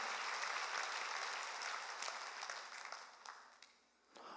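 A church congregation during a sermon claps in a dense, continuous burst of applause from many hands, at a moderate distance, gradually thinning and fading near the end.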